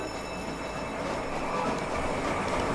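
A train in the Roblox Jailbreak game rumbles along its track with steady wheel and rail noise, growing slightly louder as it runs close by, with no voices over it.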